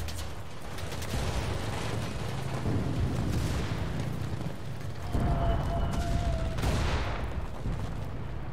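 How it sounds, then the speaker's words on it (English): Artillery barrage in the video game Enlisted on a Moscow battlefield: a steady rumble of distant booms and blasts rolls on without pause, with a few louder shell impacts standing out near the middle and end. "We need artillery support."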